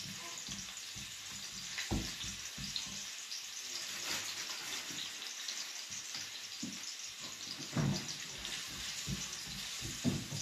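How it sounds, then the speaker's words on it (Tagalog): Ginger dropped into hot oil for pork binagoongan, a soft, continuous sizzle with faint clinks and scraping of a utensil in the pan, low and close, with no talk over it. "lagay ko na po itong ating luya. Mainit na rin po."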